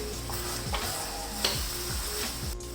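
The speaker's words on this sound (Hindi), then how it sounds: "ये सारी चीज़ें डालने के बाद अब इसकी मैं भुनाई करती हूँ अच्छी से।" Urad dal mash is roasted in a pan, heard as a constant close sizzle with rhythmic spoon scrapes as it is stirred, and no talking.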